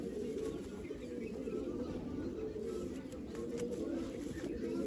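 Kalsira pigeons cooing in a low, continuous murmur at close range, with steady background rumble and faint talk mixed in.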